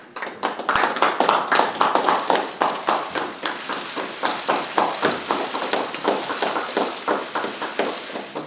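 An audience applauds to welcome a retired army general at a Democratic Party recruitment announcement. The clapping is dense and sustained, with a steady rhythmic pulse that holds throughout and no voices on top.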